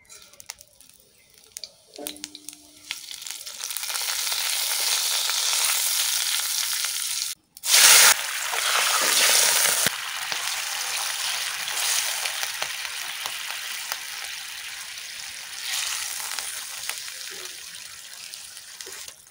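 Cumin seeds hit hot oil with a sudden loud burst of sizzling and crackling, which settles into a steady, quieter sizzle that carries on for a while.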